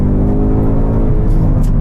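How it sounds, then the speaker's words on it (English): A 2022 Ford Mustang Mach 1 engine revs hard while held on the handbrake, a loud, dense, continuous roar with rich low rumble filling the whole stretch, close up and without speech. "You really have to rev this engine to get the most out of it."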